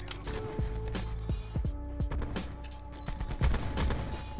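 Rapid gunshots from a shooter video game crack in quick, irregular bursts close by, some with clanging echoes, over steady game background noise.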